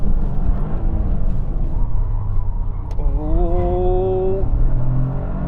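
A Toyota GR Corolla Morizo edition on a flying lap, its engine droning loud and close, then climbing in pitch as it accelerates hard through the gears.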